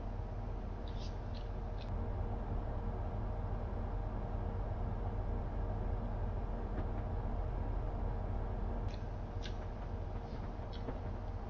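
Class 800 train running in the Train Sim 2020 game, approaching Haymarket Station near Edinburgh: a steady low rumble and broadband hiss throughout, with faint brief high squeals and clicks now and then.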